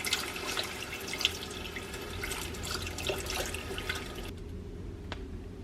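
Low sodium chicken stock pours into a cooking pot in a continuous liquid splash and trickle, steady and close, stopping abruptly near the end with a final drip.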